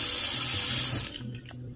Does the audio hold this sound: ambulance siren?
no